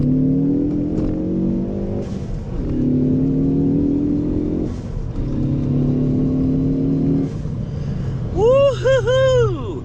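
Car with a newly installed intake accelerating hard through several gear shifts, the engine note climbing and dropping in repeated surges, with a sharp whine near the end.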